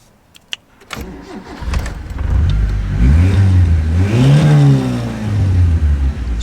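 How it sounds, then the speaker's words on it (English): A Ford TX5 Turbo cranks and fires up, then revs up and falls back to a rough idle, loud and close, with a few clicks just before the start. "She starts up sweet,"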